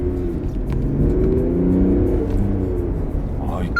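A Mercedes-Benz S350d S-Class diesel sedan with AMG Line and paddle shifters accelerates, its engine note rising as a steady, moderately loud drone heard from inside the cabin.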